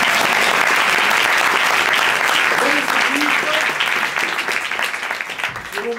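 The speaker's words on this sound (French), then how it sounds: "Et on peut les applaudir très fort." An audience at an improv show at a French improv festival claps loudly and steadily, a dense sustained applause that tapers slightly near the end, with a few faint voices rising above it.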